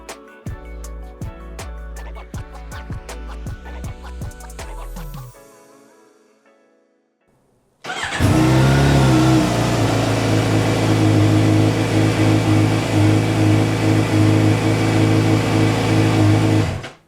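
A Suzuki GSXR750 motorcycle engine under repair for an oil-drain fault: sharp rhythmic cranking pulses for several seconds, a short silence, then the engine catches and runs loudly and steadily, revving with a rough, full roar close by.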